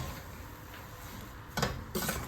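A spoon scrapes and clinks softly against a pan while sugar is stirred into bread halwa, a low steady rustle with two brief louder scrapes near the end.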